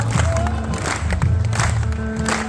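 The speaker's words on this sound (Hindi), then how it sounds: "तालियां बजाओ।" A devotional bhajan audience claps along in a dense, continuous wash over steady music with sustained tones and a loud, crowded hall feel.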